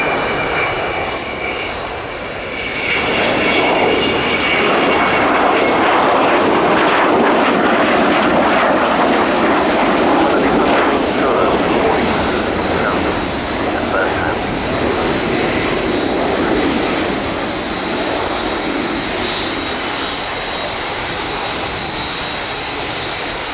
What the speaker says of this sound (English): Fly down the runway with wheels down.